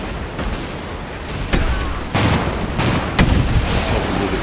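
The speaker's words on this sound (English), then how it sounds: "Let's help a little bit with the cannons, but these bombs are the things that" Cannon fire and bombs boom in the airship battle game Airships: Conquer the Skies, a steady barrage of dull thuds and sharper bursts at irregular intervals over constant rumbling battle noise.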